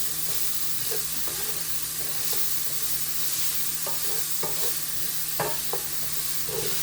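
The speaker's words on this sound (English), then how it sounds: "Give that a stir." Vegetables with smoked paprika are stirred in a hot pan, a steady sizzle running underneath as scraping spoon strokes and soft clacks come irregularly, close by and with nobody talking.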